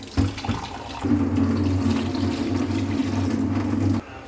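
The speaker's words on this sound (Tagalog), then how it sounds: "Lagyan na natin siya ng tubig." Water pours steadily into a cooking pot of chicken tinola for a few seconds, a low hollow gushing that starts, pauses briefly, then runs continuously before stopping abruptly.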